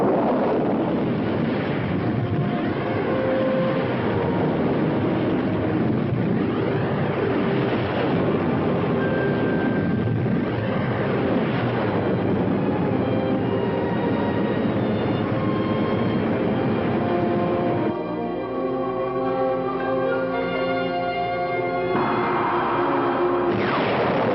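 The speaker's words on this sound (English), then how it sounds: "I'll tell you when to start the engine" Sci-fi spaceship engines running at speed in an outer-space film: a steady, loud roaring drone with wind-like rushing and shifting tones, changing to a pulsing, stuttering texture near the end, with no talk.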